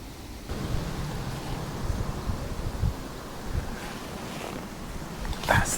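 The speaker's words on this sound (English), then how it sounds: "Quite gusty out here today." Gusty wind on the bank of the River Eden during a fishing session, a steady broadband rush with a few louder buffets near the end and no talk.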